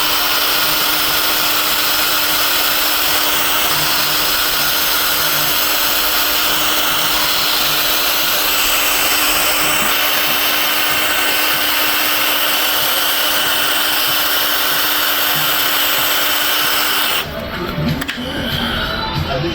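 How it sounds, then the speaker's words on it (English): A valve being lapped into its seat on a Gen 6 big block 454 Vortec engine under rebuild, giving a loud, continuous, even grinding hiss with a faint hum underneath, ending abruptly near the close. "And you can hear the sound as it starts to grind and then it gets quieter."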